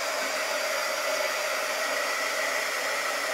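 A hair dryer blows steadily on wet transfer paste over a stencil on farmhouse decor, a loud, even, close-up whooshing roar that holds unchanged throughout.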